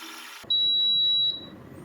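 A Nostalgia Retro stainless steel electric kettle gives one loud, steady high-pitched beep lasting almost a second once the water is done, with quiet room sound before and after and no one speaking.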